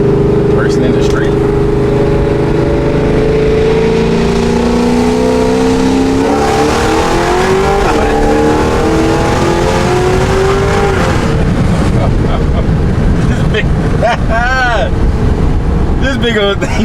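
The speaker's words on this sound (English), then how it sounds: "let me do first gear pull. And lifted the whole front end, dude." A heavily modified 2026 Cadillac Escalade-V with a built motor, heads and cam revs hard on a first-gear pull in the street, its engine note climbing loudly through the run with wind buffeting and people talking over it.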